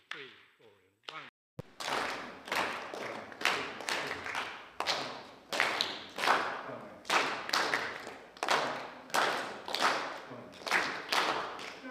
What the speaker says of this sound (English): You can do a clave by clapping hands.